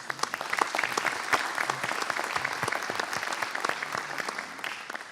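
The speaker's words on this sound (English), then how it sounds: "Give him a round of applause." A conference audience at an opening session claps for a director being introduced, dense continuous applause from a large crowd that stays steady throughout.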